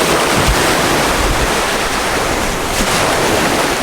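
Sea waves washing onto a warm beach, a steady loud broadband roar of surf with gusty wind noise on the microphone, no voices.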